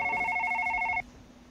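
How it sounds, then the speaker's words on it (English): A telephone in a video game rings with a steady electronic trill for about a second, then cuts off, leaving quiet background hum. "so you've got the phone going off"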